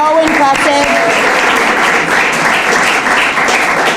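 Loud, sustained applause from a crowd fills the clip, dense clapping with a few cheers, steady from start to finish.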